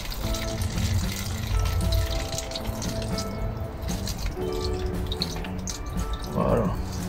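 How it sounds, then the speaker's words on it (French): Water pours into the bottom of a container inside a greenhouse, a steady splashing and trickling stream that runs continuously at close range with faint background noise. "Donc là, je mets de l'eau dans le fond."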